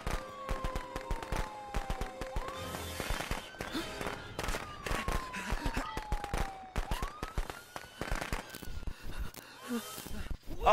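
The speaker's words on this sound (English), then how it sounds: "They set up firecrackers for Larry." Firecrackers going off in the Friday the 13th video game, a rapid, dense string of crackling pops lasting several seconds, with tonal game music and effects running underneath.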